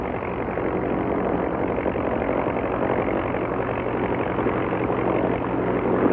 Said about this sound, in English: it is even possible to fly in by helicopter